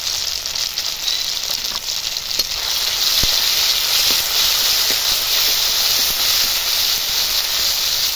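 Poppy seed, mustard and green chili paste sizzles steadily in a hot pan, a continuous close hiss with faint crackle throughout.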